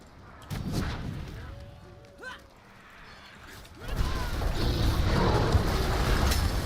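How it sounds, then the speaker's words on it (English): A loud, booming explosion in the video game Diablo 4, a heavy rumbling blast that swells and sustains for a few seconds after earlier thuds and mechanical game sounds. "Did you see that mad explosion right there?"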